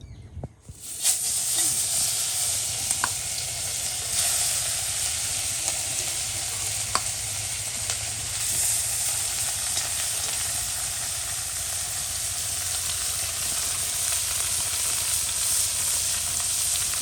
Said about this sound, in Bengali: কড়াই গরম হয়ে গেছে তেল দিয়ে দিচ্ছি এবার এই যে মাছগুলো দিয়ে দিচ্ছি